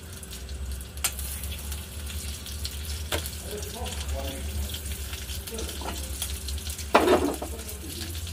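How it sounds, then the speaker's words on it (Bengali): A little white oil and butter heat in a kadai, giving a soft, low sizzle beneath background hum, with scattered clinks and a louder clatter near the end. "এবার আমি কড়ার মধ্যে অল্প একটু সাদা তেল দিয়ে দিলাম, আর দিয়ে দিচ্ছি একটু বাটার"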